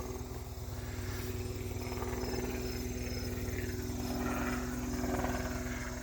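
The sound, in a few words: helicopter flying overhead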